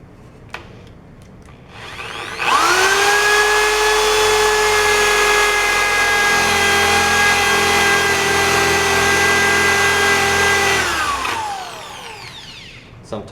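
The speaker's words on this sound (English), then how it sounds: "Then with a 1/2-inch spade bit, we will drill as straight as we can through this piece of wood." Power drill fitted with a half-inch spade bit bores through a piece of wood, a close, steady whining drone held for about eight seconds, rising in at the start and winding down at the end.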